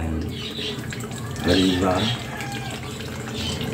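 Cooking water being poured from a pot into a pitcher, a short burst of splashing liquid rising over steady background noise while a voice speaks briefly.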